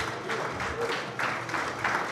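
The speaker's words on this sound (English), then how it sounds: "Please give him a round of applause" Applause from a dinner audience honouring a former football player of the class of 1958, a steady, moderately distant patter of many hands that holds evenly for a couple of seconds.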